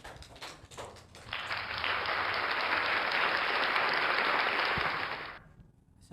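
An audience of university students breaks into sustained applause for a student group presenting in class, a dense loud clapping that swells quickly, holds for several seconds, then fades out.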